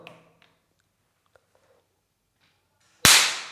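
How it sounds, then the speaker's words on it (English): A motor capacitor charged at full power and detonated bursts in one sudden loud bang that hisses and fades over half a second, following near-silence with a few faint small ticks. "I'm going to charge it at full power and then detonate it"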